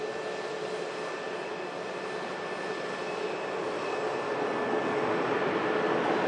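A Qatar Airways Airbus A350 jet touches down at Manchester Airport, a faint, distant, even roar with a thin steady whine that grows slightly louder toward the end, with no voices.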